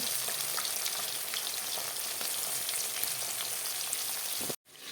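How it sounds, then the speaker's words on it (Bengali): Katla fish frying in oil in a pan gives a dense, even sizzle with scattered spits and pops, loud and close, continuing steadily until a sudden cut just before the end. "এখানে আবার মাছ ভাজার জন্য বসিয়ে দিয়েছি"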